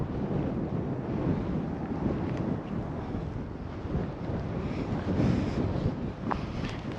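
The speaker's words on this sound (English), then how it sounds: "It is pretty windy, but it's nice." Strong wind buffeting the microphone in a constant low roar, loud and close, with no voices, on a hiking trail in Julian, California.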